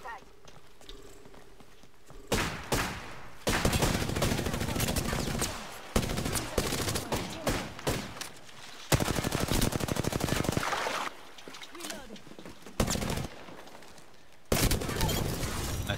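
Gunfire from a Apex Legends match, including a Kraber sniper rifle, comes in several long bursts of rapid shots broken by short pauses. Players talk over the shooting.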